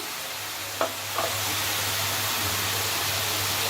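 Raw Nendram banana peel curry frying with turmeric in a pan, a steady close sizzle with a couple of short stirring scrapes near the start, no talking.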